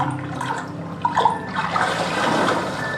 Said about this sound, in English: he heard water splashing.